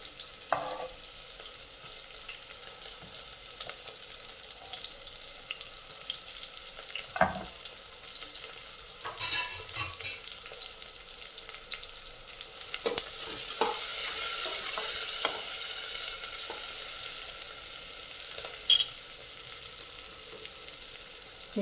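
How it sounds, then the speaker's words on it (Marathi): Onion, chilli and garlic-ginger paste sauté in a pan with a low, steady sizzle, a spatula scraping and clinking now and then, and a louder hiss swelling midway; no talking. "आपण लसूण आणि अद्रकची पेस्ट टाकून घेणार आहे आणि कांदा पण टाकून घेणार आहे"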